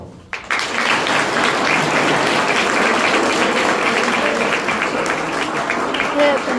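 Sustained audience clapping at an academy event speech, a dense crowd applause that starts abruptly and holds steady for several seconds.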